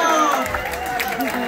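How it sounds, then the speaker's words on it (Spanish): Crowd noise at a baptism party show, a dense wash of cheering and chatter with scattered clapping, steady and fairly loud throughout a short burst. "¡El aplauso!"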